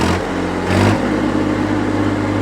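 A Massey Ferguson 8055 tractor engine revs hard up close, a loud throaty roar with a quick surge in pitch early on before settling into a steady high-rpm drone.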